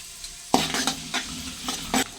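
Fenugreek and mustard seeds being stirred in a hot pan while making ginger pickle, a few sharp spoon scrapes and brief sizzling bursts against a quiet background, no voices.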